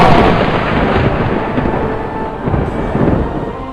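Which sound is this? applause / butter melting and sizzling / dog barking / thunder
thunder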